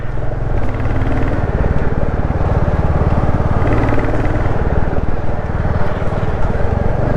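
A motorcycle engine runs loud and close as the rider downshifts through the gears, the revs rising and falling in a rough, pulsing drone, with a voice talking over it.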